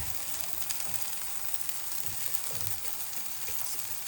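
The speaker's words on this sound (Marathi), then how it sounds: "मसाल्यांमध्ये छानपैकी कांदा छान परतून घेऊया आपण" Onion sautéing in a kadai with red chili powder, coriander powder and kadai paneer masala, giving a steady, dense sizzle with soft stirring scrapes throughout, close and continuous with no talking.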